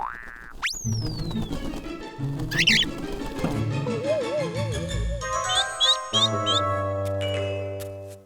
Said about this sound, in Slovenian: mali ptiček, mahaj s krili, tako boš lahko letel